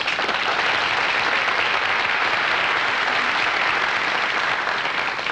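Steady, full audience applause at a television variety show, continuous and even throughout with no talk over it.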